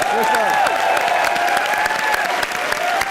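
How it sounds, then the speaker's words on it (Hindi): Loud, sustained applause from a television comedy show studio audience, steady clapping throughout with a few cheers and whistles rising above it. "ऑडियंस, फितूर के डायरेक्टर अभिषेक कपूर के लिए जोरदार तालियां हो जाए"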